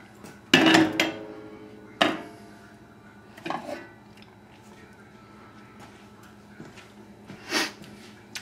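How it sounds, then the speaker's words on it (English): Vegetables tipped into a pot of cooked, fluffy quinoa, giving a few separate clattering knocks and scrapes of utensil and pot, loudest at the start and then sparser, with quiet kitchen background between them. "So now we're going to add the vegetables."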